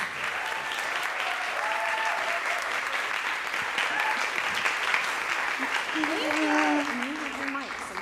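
A large audience claps steadily throughout, a dense even wash of applause with a few faint voices and whoops rising near the end, welcoming a speaker to the stage at an evening event.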